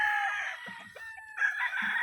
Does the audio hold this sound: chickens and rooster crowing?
yes